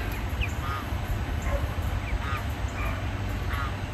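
Baby ducklings kept in a cage, shaded from the sun, give a few short, faint chirps over a steady low outdoor hum.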